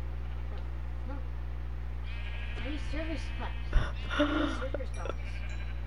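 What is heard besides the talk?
sheep bleating in a video game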